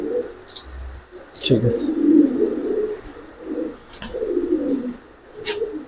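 Giribaz pigeons, coloured and silver birds in a loft, coo in low, repeated rolling bursts, near and moderately loud, while someone talks briefly over them.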